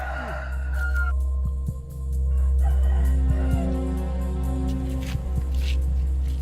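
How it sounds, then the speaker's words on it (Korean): Chickens in a Thai household yard where a few chickens and pigs are kept, a rooster-like call rising above a constant low hum of outdoor background, with scattered short clucks and knocks; no talking. "이 집의 주인 역시 몇 마리의 닭과 돼지를 키우고 있다."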